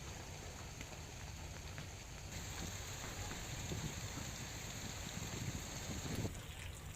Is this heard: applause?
no